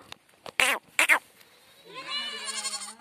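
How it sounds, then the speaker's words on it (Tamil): A goat gives one drawn-out, wavering bleat close by near the end, after a few short, sharp knocks and rustles. "பார்த்தா சேரில் ஆட்டு விட்டு உட்காந்துருக்கு."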